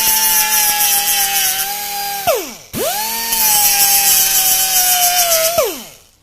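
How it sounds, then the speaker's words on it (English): A 2-inch Scotch-Brite pad spun by a power tool during a spindle bearing replacement gives a loud, high, steady whine. It runs in two long bursts, and each one winds down sharply as the tool stops. "this is just a little 2-inch Scotch-Brite pad here"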